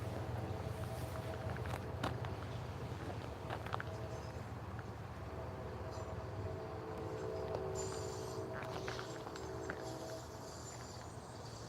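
A Norfolk Southern freight train rumbles past at a distance in Ooltewah, with a low continuous drone, clanks and rattles of cars, and faint insects chirping in the background.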